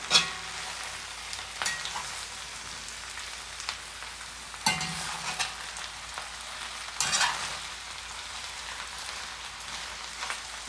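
Corned beef hash with spinach frying in a pan, a steady close sizzle with occasional louder scrapes and clatters of stirring scattered across about ten seconds, with no talking.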